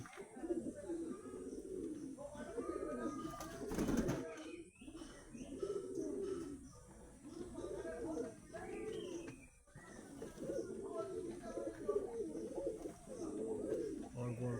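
Soft, repeated cooing of caged pigeons close by, low throaty calls rising and falling in overlapping waves, with a brief rustle partway through.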